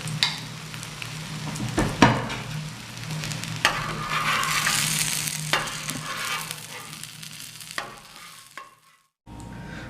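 Shami kebabs made from lentils fry in ghee in a pan, a steady close sizzle with spatula stirring and scraping and a few clinks, thinning out and going quiet near the end.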